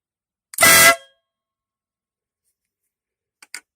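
A single loud, harsh blast from a compact remote-control air horn lasting about half a second, followed by silence and a couple of faint clicks near the end.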